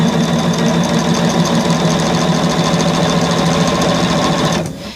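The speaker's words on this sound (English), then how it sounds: "I have allotted myself an hour tonight to sew, because I really wanted to sew" A sewing machine runs steadily, stitching a bed quilt with a fast, even mechanical hum close by, then winds down and stops near the end.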